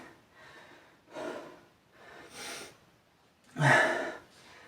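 Heavy breathing during exercise: several loud, rough breaths in and out come close to the mic, spaced about a second apart, with the last exhale the strongest.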